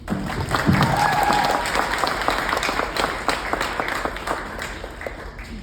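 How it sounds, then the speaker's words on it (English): Audience applause at a best man speech, a steady wash of clapping that holds loud from start to finish, with a few voices rising briefly through it near the beginning. "one more round of applause for the people who have gone before me"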